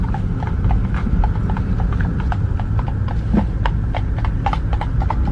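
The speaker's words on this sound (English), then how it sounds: "He's quite good, that horse." A riderless horse clip-clops steadily along a country road, loud and close, with regular hoof strikes and no talk over it.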